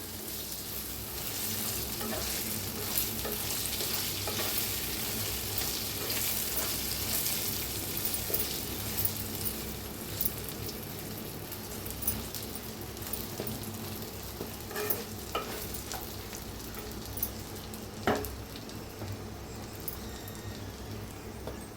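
Continuous sizzling and crackling of chillies frying in a pan with turmeric, with occasional scraping clicks as they're stirred, steady and close throughout.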